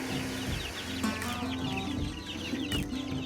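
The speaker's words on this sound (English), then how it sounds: "I think there's 17 chicks in here." Chicks and chickens in a homestead brooder, including Ameraucana chicks, cluck and peep steadily with repeated short calls, close and clear with no talking.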